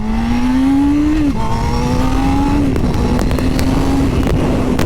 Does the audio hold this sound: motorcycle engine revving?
yes